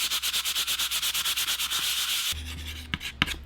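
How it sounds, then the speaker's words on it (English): Sandpaper rubs back and forth over a clipboard's writing surface in quick, even rhythmic strokes for about two seconds, then stops and gives way to a few faint handling knocks and scrapes. "I wonder if I can sand it down a little bit."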